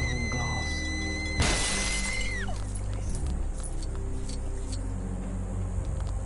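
Glass shatters once with a sharp crash in the LEGO Jurassic World video game, over steady game music and background noise, with descending tones fading out after the break.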